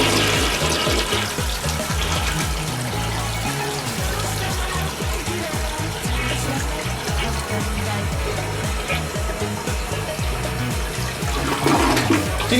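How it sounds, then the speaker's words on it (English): An older Kohler toilet in a hotel bathroom flushes with a strong, continuous rush of water, swirling and gurgling steadily close by for several seconds before a refill trickle. "Decent flush."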